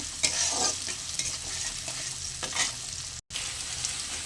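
Green chillies and spices fry together in hot oil in a pan for a fish curry, giving a steady loud sizzle with stirring scrapes and one brief dropout near the end.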